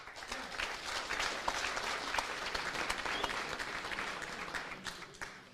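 A faint audience round of applause, continuous scattered clapping at low level, distant and steady before tapering off at the end.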